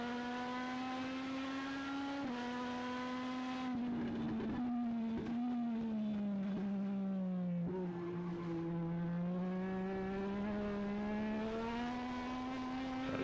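A Legends race car engine drones loud and steady from onboard while running wheel to wheel at New Hampshire Motor Speedway, its pitch sagging and rising through the corners with no break in the sound.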